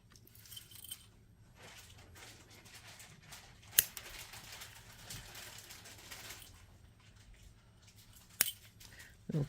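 A jewelry chain is cut in half with cutters: two sharp metallic snips stand out over a low, steady background hiss, with a softer click at the very end.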